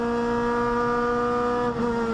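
A Clio race car engine drones steadily at high revs on the Nürburgring circuit, loud and close, with a brief dip and shift in pitch near the end.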